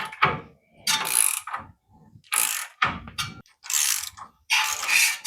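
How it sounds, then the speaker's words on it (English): A torque wrench tightening a spindle nut to 12 foot-pounds while the wheel is turned, during a QA1 suspension install: bursts of ratcheting clicks in short, separate runs with brief pauses between them, close and moderately loud. "While rotating the wheel, tighten the spindle nut to 12 foot-pounds of torque."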